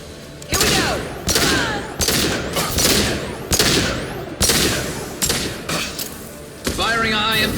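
Heavy gunfire and biotic blasts from Mass Effect 2 combat hit in a rapid series of loud, booming impacts with sweeping energy whooshes between them, while character voices call out over the fight.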